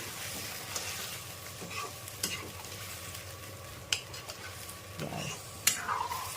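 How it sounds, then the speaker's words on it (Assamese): Soybean curry frying and sizzling in a home cooking pan, with water added, gives a steady close sizzle under occasional stirring scrapes and small clinks, no talk. "ভাজা হোৱা মতে মই পানী দিলোঁ"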